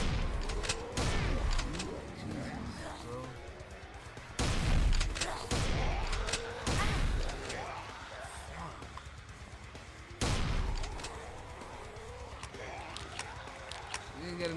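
Bombing and gunfire in the video game Blood Wave, with repeated bursts of explosions and shots swelling and fading over a steady game backdrop, several loud booms standing out.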